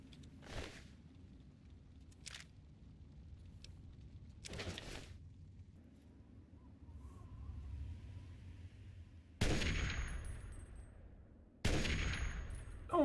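Heavy gun firing in the video game Fallout 3, loud sharp blasts spaced several seconds apart over a low steady game ambience, with heavier booming shots toward the end.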